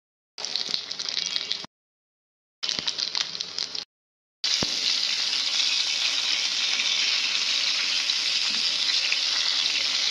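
Hilsa fish curry with eggplant, potato and tomato sizzles and fries loudly in a pan, with two short bursts broken by silence, then a steady, continuous close-up sizzle.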